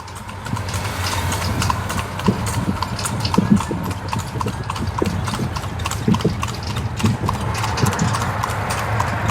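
Horse pulling a carriage through Kolkata streets, hooves clip-clopping in a steady close rhythm from start to finish over a low rumble of traffic, with occasional voices nearby.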